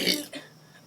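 A person burps out a letter of the alphabet in a brief, rough, throaty burst, followed by a weaker second push that fades away.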